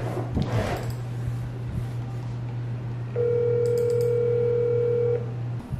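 Outgoing phone call ringing tone, one steady tone lasting about two seconds, heard over a constant low hum and a brief rustle at the start.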